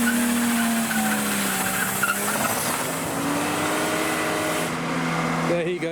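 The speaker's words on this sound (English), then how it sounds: "now the Volvo is doing a burnout at the front" A Volvo car engine roars during a burnout with screeching tires spinning, a sustained rising whine over loud revving, with voices faintly in the background.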